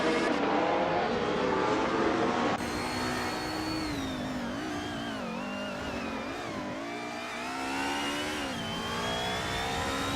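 A lightweight-framed racing car in a video game race whines loudly and up close, its engine pitch rising and dipping through shifts and corners in a continuous drone. Nobody speaks.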